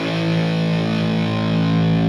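Electric guitar run through a Line 6 Helix Stadium XL's OD250 overdrive model, a Distortion Plus–style pedal, sustaining a thick, steady distorted tone with strong harmonics, close and loud throughout.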